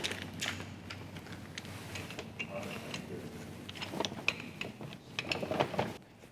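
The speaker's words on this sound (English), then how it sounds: "we need to clamp the bag into this device" Bag being clamped inside a HEPA filter cutting device, giving a run of mechanical clicks, ratcheting and metallic knocks at close range, with a steady background hum and occasional voices.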